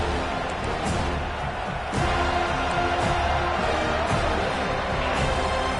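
A home crowd at a Florida State versus Virginia Tech college football game roars, swelling louder partway through into a dense, sustained wall of cheering on third down.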